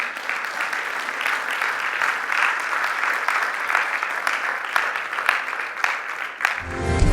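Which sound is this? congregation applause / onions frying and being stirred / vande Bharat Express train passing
congregation applause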